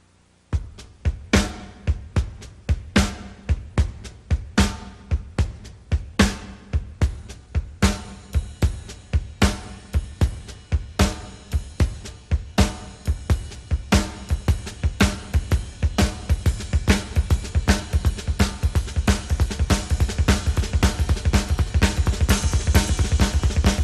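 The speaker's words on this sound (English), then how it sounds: "Now what I like to do to this beat is add in ghost strokes in between the first triplet and the third triplet." A drum kit plays a steady beat built on triplets with double bass drums, soft ghost strokes tucked between the first and third triplet notes, crisp and close, growing denser and louder toward the end with no talk.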